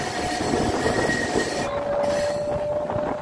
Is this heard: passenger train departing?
yes